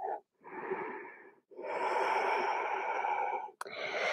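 Deep, slow breaths during a vinyasa yoga flow, long drawn inhales and exhales in a steady rhythm, close and clear, with a brief break between each breath.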